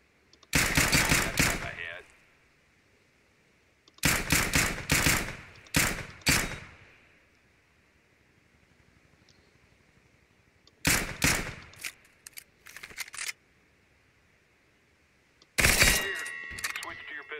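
Rapid bursts of gunfire in the video game CS:GO Battle Royale, loud and close, come in several clusters of fast repeated shots with quiet gaps of faint background hum between them.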